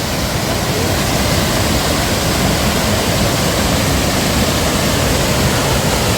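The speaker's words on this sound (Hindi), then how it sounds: "ऐसी पानी की कितनी अच्छी आवाज़ आ रही है" Loud, continuous rushing water roaring steadily without a break, like a fast mountain stream or waterfall close at hand in Jasper National Park.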